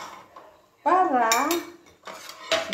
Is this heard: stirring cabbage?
yes